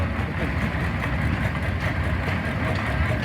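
A big old engine runs at an antique engine show, the Rough and Tumble Engineers reunion, producing a loud, steady, heavy rumble with constant mechanical churning throughout.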